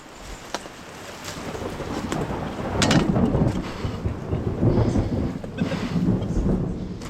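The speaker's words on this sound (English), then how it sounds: "I heard a storm rolling in" A thunderstorm rolls in under a tree canopy, with deep, loud, rumbling thunder over a steady wash of rain and wind, and no talking.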